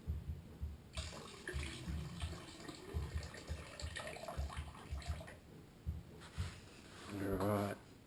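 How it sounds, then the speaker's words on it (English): Excess water is poured off a pan of gold paydirt, a splashing, gurgling flow sloshing over several seconds, close and moderately loud, with someone talking over it. "Just pour off the excess water."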